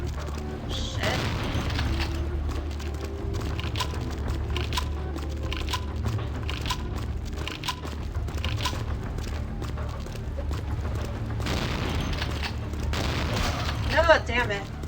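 Shotgun blasts in Vampire: The Masquerade – Bloodlines, heavy booming shots repeating throughout amid game action, loud and dense, with a sharp burst near the end.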